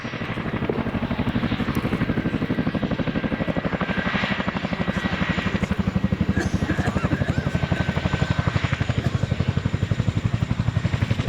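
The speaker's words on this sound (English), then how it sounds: "The two-wheel taxi is a unique skill and sees the pilot touch down before rapidly making control adjustments, which hold the Chinook at up to 20 degrees nose up" RAF Chinook twin-rotor helicopter flying a display at the RAF Cosford Airshow 2019, a continuous heavy rhythmic rotor thudding with a droning engine whine, loud and steady throughout.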